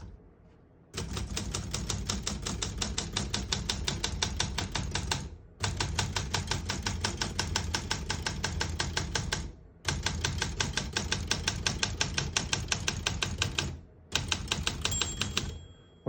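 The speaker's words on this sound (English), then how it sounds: "Once you hear the bell, you're at the end of the margin." Rapid keystrokes on a 1968 Olympia SM9 manual portable typewriter clatter in long continuous bursts with brief pauses between them, and the small margin bell dings near the end of the last burst.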